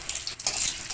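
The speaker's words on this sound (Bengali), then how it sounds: "এবার দিয়ে দেবো জিরে, এবার দিয়ে দেবো তেজপাতা। এবার মশলা দিয়ে দেবো।" Cumin seeds, bay leaf and spices crackle and hiss in hot oil, a bright, dense sizzle over a single close second.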